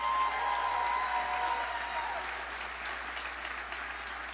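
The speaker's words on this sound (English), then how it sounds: "Round of applause for the Aurora City Council leading the way" Steady crowd applause at Aurora's 2022 State of the City address as city council members are introduced, a broad wash of many hands clapping that slowly eases off.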